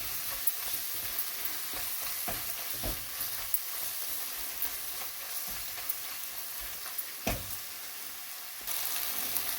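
Spice powders frying and being stirred in a pan over low heat while making a soya paneer curry, with a steady soft sizzle and scattered scraping stirs, a couple of sharper knocks near the end.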